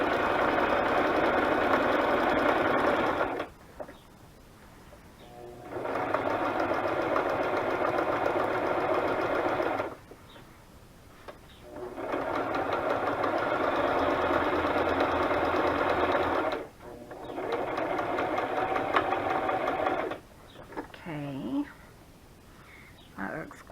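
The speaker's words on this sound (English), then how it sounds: "trying to figure out my sewing machine" A home sewing machine runs in three sustained bursts of steady, close mechanical whirring, separated by brief quiet pauses.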